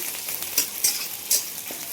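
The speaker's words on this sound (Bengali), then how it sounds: "রুই মাছ দিয়ে ঝিঙের ঝোলটা করে বলে মাছটা এদিকে ভাজছি" Pieces of rohu fish fry in hot oil with a steady crackling sizzle, broken by a few louder spattering pops at irregular intervals.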